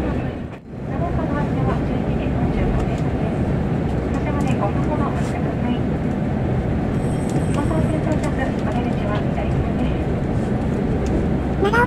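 A Shinetsu Main Line train rolls into Nagaoka station, a steady low rumble of wheels and running gear filling the whole stretch at close range, with faint higher squeals and a brief tonal note near the end as it slows to a stop.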